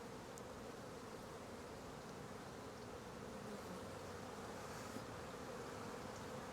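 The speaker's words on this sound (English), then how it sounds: "As you can see, there's a lot of bees" Honeybees swarm thickly at a hive entrance with the entrance reducer removed, a dense steady buzz that holds close and even throughout.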